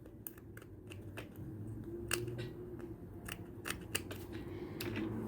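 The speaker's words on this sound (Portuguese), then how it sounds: "Vou cortar aqui o meu tecido." Scissors snip through fabric in a series of short, crisp cuts at an uneven pace, close and fairly quiet over a low background hum, during a sewing job making bias binding.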